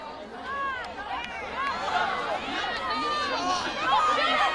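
Family and friends in the home stands shout and cheer for the Vaqueros during a CIF girls soccer match, a steady outdoor crowd of overlapping voices, calls and chatter that holds at a moderate level throughout.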